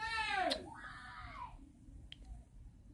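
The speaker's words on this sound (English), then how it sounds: "I hate it when somebody starts screaming." A high, piercing scream slides sharply downward for about half a second, then trails into quieter voiced sounds and a couple of faint clicks against a soft background.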